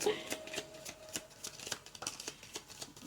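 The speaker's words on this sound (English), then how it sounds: "LOL, I scared Chloe with my shuffle" Tarot cards being shuffled by hand at close range, a run of quick, crisp riffling flutters and soft slaps repeating in uneven bursts, with no talk.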